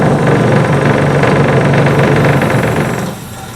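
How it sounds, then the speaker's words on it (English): A bench grinder shapes the curved tip of a high-speed steel parting tool, a loud, close, rough grinding whir with fluttering vibration that holds steadily and then drops off near the end. "So now I'm going to shape the tip. I'm going to grind this curve in here."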